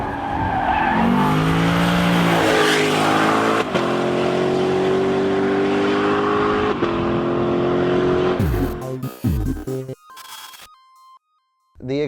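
A Lexus LC500 Convertible revs loudly and close, its engine and exhaust rising in pitch through a long pull with tire squeal, then cutting out into sharp crackles and pops before falling briefly silent.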